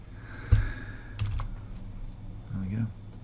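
Computer keyboard keys pressed for a Control+A then Control+V paste shortcut: a few sharp, close clicks in quick succession, with faint room noise and a soft thump.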